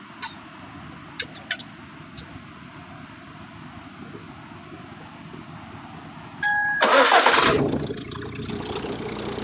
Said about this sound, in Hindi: सर इंजन स्टार्ट करते हैं सर।